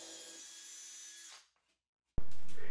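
Power drill driving a screw into a mahogany workpiece on a CNC wasteboard: a steady whirring run that stops, a short silence, then a loud sharp burst as the drill starts again.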